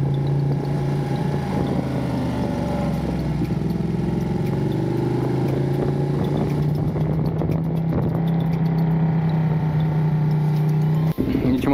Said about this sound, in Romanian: Mamă, ce îmi place motocicleta asta.